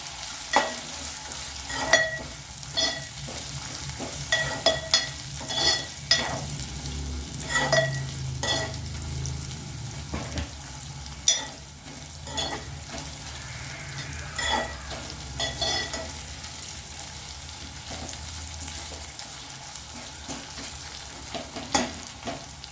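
Ginger garlic paste frying in a pan for chicken gravy, a constant sizzle with many rhythmic scrapes and taps of a stirring spoon over a long stretch, close and steady, no one talking.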